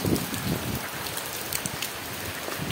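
Rain falls steadily outside a gym, a dense, even hiss with scattered louder drops and some wind buffeting the microphone, close and without talk.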